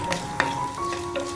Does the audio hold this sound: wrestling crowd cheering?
no